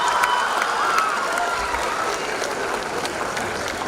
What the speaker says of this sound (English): A huge round of applause for the international students once again.